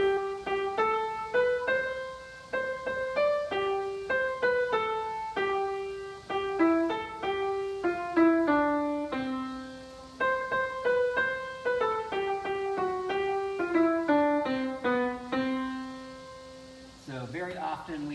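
Hymn tune arrangement with an Alleluia line, played instrumentally as a steady, clear melody over sustained chords, heard alone without voices for about eighteen seconds.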